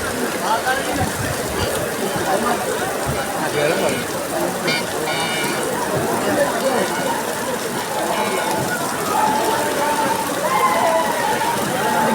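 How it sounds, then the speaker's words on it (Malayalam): Heavy rain pours steadily at an outdoor boat race track in Kainakary village, a dense, constant hiss with voices talking over it. "മഴയ്ക്കൊരു രക്ഷയില്ല കേട്ടോ, അധികം ഗംഭീര മഴയാ."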